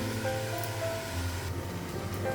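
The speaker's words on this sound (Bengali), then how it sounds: "আলুটা ভাজা করবো।" Potatoes frying in a kadai with dry red chillies, black cumin and whole cumin give off a steady, even sizzling hiss with a low background hum, and no one speaks.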